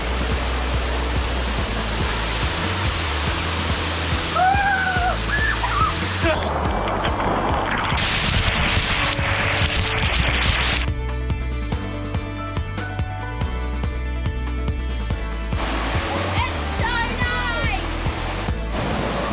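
A steady, loud rush of a waterfall on the Waitawheta Tramway trail in the Kaimai Range, New Zealand, roars throughout, with faint voices and a few bird chirps above it.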